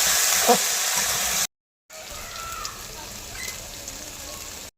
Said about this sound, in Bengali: লতিগুলি তেলে ভাজা হয়ে গেছে